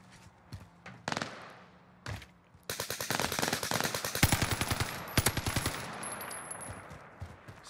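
Rapid bursts of automatic gunfire from a weapon in the shooter game Warzone, loud and close, with dense rattling volleys and a few single shots, the firing growing heavier and continuous through the second half.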